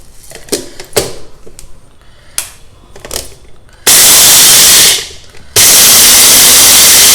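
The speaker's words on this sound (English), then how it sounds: "Now we will grind this into a coarse powder." A kitchen mixer grinder blends rasam spices into a coarse powder in bursts: a loud, steady whirring roar runs about two seconds, stops briefly, then starts again, after a few quieter clicks and taps.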